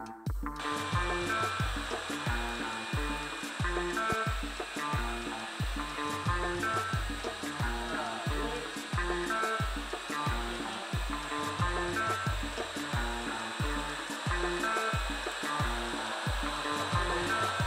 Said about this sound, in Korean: 바닥에 밀가루를 뿌려놓고 각각의 청소기로 바닥을 밀어보아요.